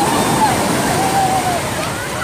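Strong surf churns and sloshes at Repulse Bay beach, Hong Kong, a steady, close roar of breaking water lasting a couple of seconds, with faint crowd voices blended into the wash.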